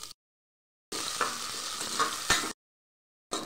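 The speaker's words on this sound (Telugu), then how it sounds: "చూడండి ఆనియన్, పచ్చిమిర్చి, కరివేపాకు ఫ్రై అయింది" Onion, green chili and curry leaves frying in hot oil with ghee, a loud steady sizzle with light stirring scrapes running for about a second and a half between silent gaps.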